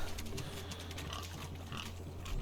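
Pigs grunt and oink in The Witcher 3: Wild Hunt, Hearts of Stone expansion: a quick string of snuffling grunts over a steady low game hum.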